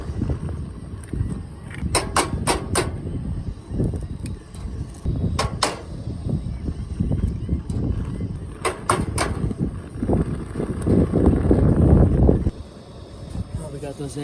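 Strong gusty wind buffets the microphone outdoors at a Little Talbot Island campsite beside a truck, a loud continuous low roar that swells near the end, broken by a few brief clicks and knocks.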